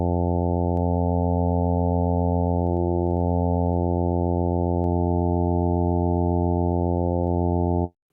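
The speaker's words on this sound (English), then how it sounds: "And here we're starting to get an organ sound." A synthesized organ sound from VirSyn Addictive Pro on an iPad: a single steady, buzzy sustained tone full of even harmonics, its upper partials shifting slightly in colour, held for several seconds, then cut off abruptly.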